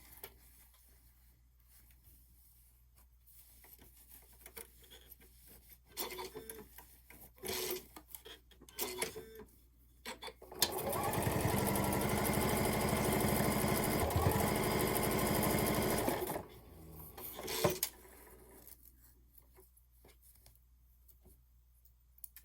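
A sewing machine stitches the lining onto a handmade phone case, running steadily and loudly for about six seconds between quieter bursts of fabric handling and short starts.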